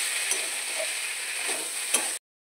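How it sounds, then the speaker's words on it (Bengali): Potatoes and yardlong beans sauté in a pan over lowered gas for a spicy jhal, giving a steady close sizzle with faint stirring scrapes throughout before cutting off abruptly. "গ্যাসটা কমিয়ে 2 মিনিট একটু কষিয়ে নেব।"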